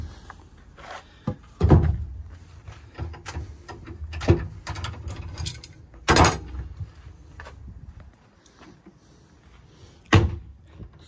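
The small hinged door of a DIY tiny-house storage box is swung and knocked shut several times, with sharp clacks and thumps separated by quieter handling noises.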